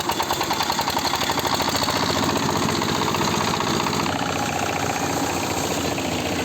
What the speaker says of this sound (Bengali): এটাই হচ্ছে আমাদের গ্রামের দা একমাত্র ধান মারাই কল এই যে মেশিন স্টার্ট হয়ে গেছে